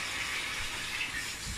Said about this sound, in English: So I'm just putting water in the bowl.